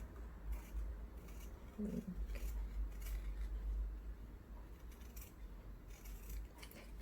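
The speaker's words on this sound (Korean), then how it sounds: "저는 그냥 이렇게 가위로 바로 자르도록 하겠습니다" Scissors snip through a paper sewing pattern in a quiet series of close cuts over a low steady hum.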